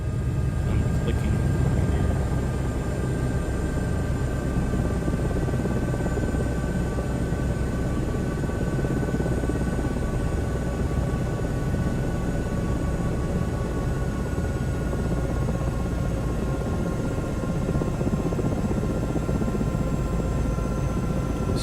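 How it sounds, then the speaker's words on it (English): A helicopter from a flight simulator video plays in the background as a steady, droning rotor and engine rumble, unchanging and moderately loud across the whole stretch. "That helicopter video I got in the background?"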